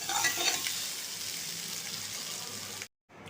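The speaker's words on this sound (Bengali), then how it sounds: "এঁচড়গুলো আমার হালকা করে ভাজা হয়ে গেছে।" Young jackfruit pieces fry lightly in oil in a home kitchen, a continuous close hiss of sizzling with stirring scrapes, cutting off abruptly near the end.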